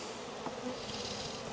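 Honeybees buzz inside a beehive with a sparse colony on an unbuilt frame during queen rearing, a steady close hum with no voices.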